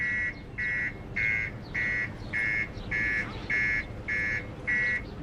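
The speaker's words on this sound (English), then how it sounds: "Why did you set off the alarm?" Car alarm going off: a steady buzzing tone that pulses on and off about ten times in a regular rhythm, loud and close, with no talking.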